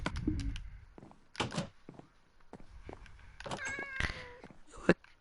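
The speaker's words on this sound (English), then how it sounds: "A cat." A cat meows a few times near a city park, brief mewing calls scattered among footsteps, thumps and street noise, with no talking.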